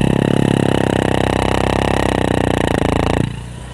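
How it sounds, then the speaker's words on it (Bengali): An old motorcycle engine runs fast at raised idle, a loud close rapid throbbing that holds steady for about three seconds, then drops sharply to a lower, quieter idle. "বাইকের আরপিএম অটোমেটিক বেড়ে গেছে।"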